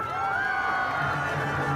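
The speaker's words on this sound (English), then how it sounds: "Everyone, let's give everyone around the world a big cheer." A St. Patrick's Day parade crowd in Sligo lets out a big sustained cheer, many voices whooping together loudly and close for the whole moment.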